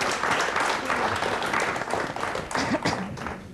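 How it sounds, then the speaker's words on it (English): Dense applause from a studio audience at a science quiz show fills the whole stretch, loud and steady, with a few sharper claps and faint voices underneath. "Let's have a big round of applause"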